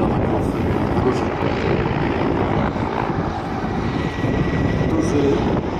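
Mi-24 helicopter passing overhead at the Aerobaltic air show in Gdynia, its large main rotor giving a loud, steady, dense roar that holds for several seconds, with a voice talking under it.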